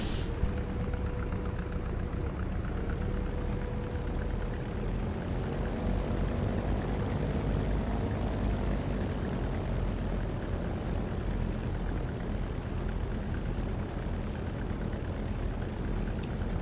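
A de Havilland Beaver DHC-2 propeller plane lands on runway 06 at Lukla, Nepal, in a flight simulator, its engine a steady, loud, unbroken drone with no talking.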